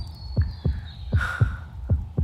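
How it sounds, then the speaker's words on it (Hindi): Fast heartbeat sound effect, a run of five deep thumping beats at a quick, even rhythm, close and prominent over a low hum. "तेरी धड़कन इतनी तेज क्यों चल रही है?"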